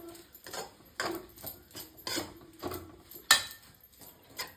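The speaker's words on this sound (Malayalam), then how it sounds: "ഇളക്കി യോജിപ്പിക്കുകയാണ്." A spoon stirs mung beans into a dish, making a steady series of clinking, scraping strokes against the pot or bowl, close and fairly quiet with no talk.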